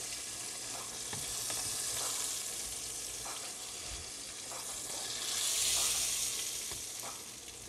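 Catfish and bass fillets fry in hot oil with a steady, dense sizzle that swells louder near the end, broken by occasional soft clicks and pops from the pan; no one speaks.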